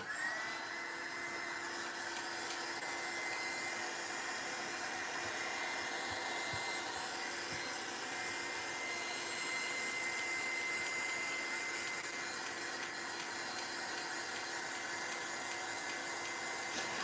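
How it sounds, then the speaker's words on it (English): A hair dryer blows steadily on collage layers, a continuous, fairly faint whooshing hum that holds without pause from start to end. "I will dry these layers now quickly"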